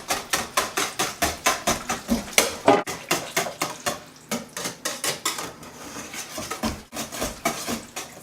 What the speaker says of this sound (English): So I might actually get a whisk, might be easier.